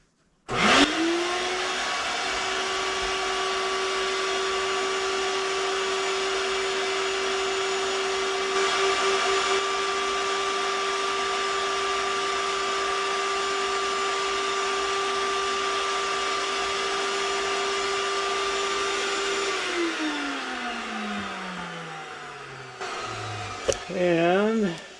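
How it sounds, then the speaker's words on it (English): A vacuum cleaner picking loose static grass off a model railway layout spins up with a sharp start and holds a loud, steady whine. It winds down near the end, and a brief voice sounds as it stops. "And back to the vacuum."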